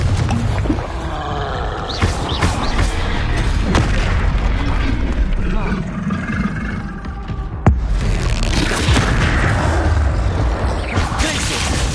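Confringo fire spells blast repeatedly in the Hogwarts Legacy video game, booming over a dense, continuous wash of battle noise, with one sharp impact standing out partway through.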